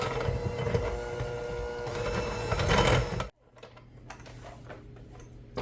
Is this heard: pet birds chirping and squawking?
no